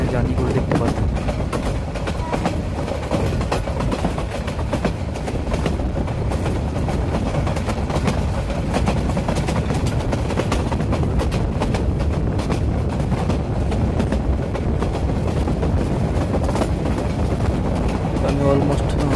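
A Bangladeshi Titash passenger train runs along the line, with a steady, loud rumble and rattle of the carriages that continues unbroken for the whole stretch.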